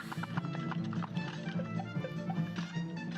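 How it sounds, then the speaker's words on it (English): Cartoon horse sounds from the Cuphead video game, with rapid clip-clopping hoof beats and a whinny, playing at a low level amid game effects. "Bad horsey."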